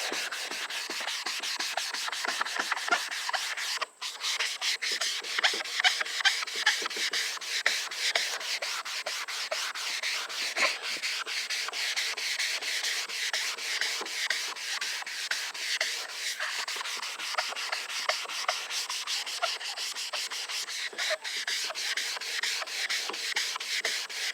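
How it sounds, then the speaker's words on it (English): A sanding sponge rubs steadily back and forth over a yellowed plastic headlight lens, a close, continuous gritty scrubbing with rapid strokes and one brief pause. "keep sanding and sanding and sanding and sanding"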